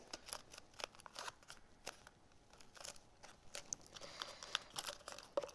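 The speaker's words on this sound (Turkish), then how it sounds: "Bunları kestikten sonra üst kısmımızı makasla tekrar keseceğiz." Scissors snipping through a paper craft, a string of short, crisp cuts with faint crinkling in between, close and quiet, with no talking.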